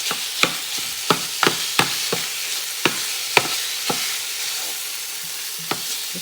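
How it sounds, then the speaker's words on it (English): A manual kitchen chopper strikes food in a quick irregular run of sharp clacks, some doubled, spaced by short pauses and heard up close with no talking. "And I'm chopping."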